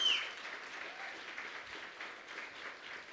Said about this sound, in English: Round of applause to Adam.